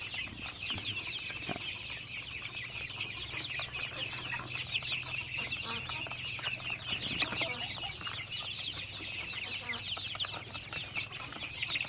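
Five-week-old Hisex Brown laying hens cluck and chirp in a steady, busy chorus, fairly faint and at a moderate distance, with a low hum underneath and no talk.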